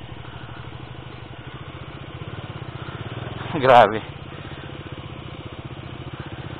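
A Kawasaki Dominar 400 or BMW 650 motorcycle idles with a steady low engine putter, near and constant, while a voice briefly exclaims over it.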